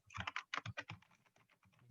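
Keys pressed on a Mac computer keyboard, including the FN and F3 keys: a quick run of close, crisp clicks that fades into softer, lighter taps.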